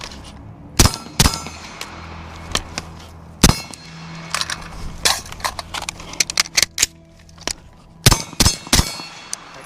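Sharp, loud shots ring out from a Centurion Arms 11.5-inch FBI AR-15 rifle, fired in irregular single shots and quick doubles with a metallic clang, close by and without talk.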